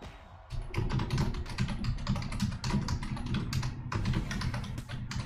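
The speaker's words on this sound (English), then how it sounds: "I'm sorry, I'm typing to somebody." Rapid, continuous typing on a computer keyboard fills the room, with dense, loud clicks and clacks rattling close by without pause.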